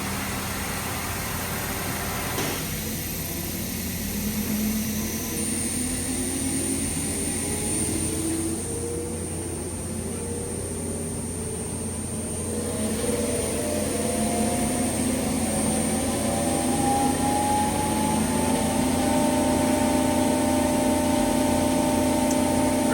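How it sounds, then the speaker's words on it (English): Spinning grinding wheel on a Supertec G32A-50CNC angle head CNC OD grinder, a steady machine whine with rising and shifting tones as speed changes, continuous and fairly loud with industrial hum beneath. "Grinding wheel at 1726 RPM."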